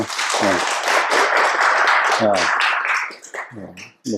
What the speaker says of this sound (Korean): 우리는 박수로 하나님을 크게 찬양했으면 좋겠습니다